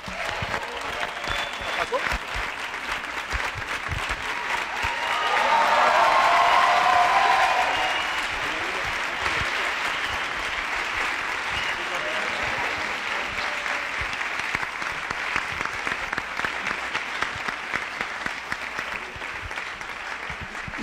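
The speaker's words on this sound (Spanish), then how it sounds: "Aplauso, por favor." An audience at the 16th International Film Festival greets Alfonso Cuarón's masterclass with sustained, dense applause from a large crowd, swelling briefly early on and then continuing steadily to the end.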